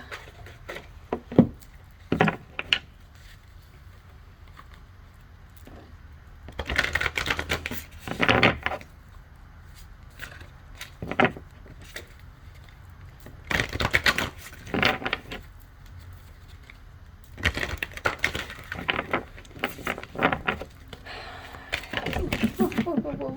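Cards from a Moonology oracle deck are shuffled and pulled, making intermittent bursts of soft riffling, tapping and flicking at close range, with quieter gaps between the clusters.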